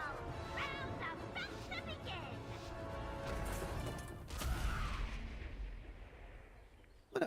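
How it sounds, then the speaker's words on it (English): Chickens in World of Warcraft cluck and squawk in a busy jumble of short calls throughout, over a dense game soundscape with a crashing thud near the middle. "So many chickens."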